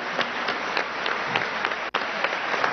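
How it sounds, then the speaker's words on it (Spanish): An audience at a public event in Aragua applauds young entrepreneurs with sustained, dense clapping that drops out abruptly for an instant before resuming at the same level. "Un aplauso a estos jóvenes empresarios"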